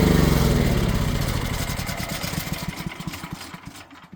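A Champion dual fuel generator engine running on propane sputters as the fuel valve is shut, its loud steady idle breaking into uneven, faltering pulses over about four seconds before dying away.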